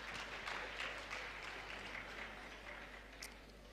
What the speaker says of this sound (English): And you can give him a round of applause.